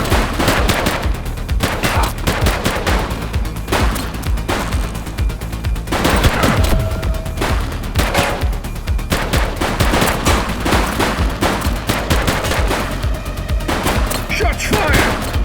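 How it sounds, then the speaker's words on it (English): Sustained video-game gunfire from a police shootout in The Precinct, dense rapid bursts of automatic fire and shots layered throughout, loud and continuous with no talk over it. "Shots fired!"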